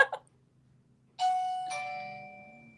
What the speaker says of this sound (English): Our doorbell.